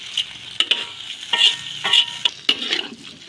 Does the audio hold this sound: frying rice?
yes